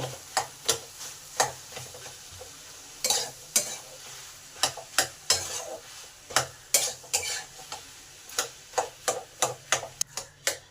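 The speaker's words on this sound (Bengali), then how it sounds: "এই আলুটাকে বিট আর গাজরের সঙ্গে ভালো করে মিশিয়ে নেব।" Boiled potato being mixed with beetroot and carrot in a pan brings a rapid series of sharp spatula knocks and scrapes against the metal over a low sizzle, close and fairly loud, with no speech.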